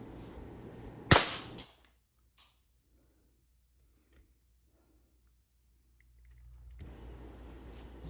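A Sig Sauer M18 air pistol fitted with a red dot sight fires a single sharp, loud crack, followed by near silence and then a low background rumble.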